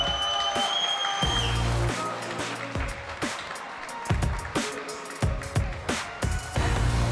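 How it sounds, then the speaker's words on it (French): Arena crowd applauding and cheering for an MMA fighter's ring introduction at an AOS fight night, a steady wash of clapping with sharp bursts and a loud amplified announcer voice over music early on. "faites un tonnerre d'applaudissements pour notre prochain combattant"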